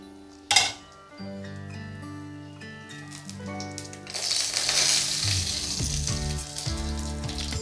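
Dried chillies, bay leaves and five-spice tempering hitting hot oil, with a sharp crackle at the start that builds into a steady sizzle, while background music plays throughout.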